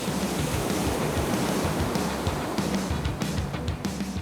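Large surf pounds Bondi Beach, heard as a steady, dense roar of breaking waves and wash at moderate distance, continuous with slight swells in intensity and no voices.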